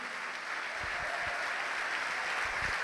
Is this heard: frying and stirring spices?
no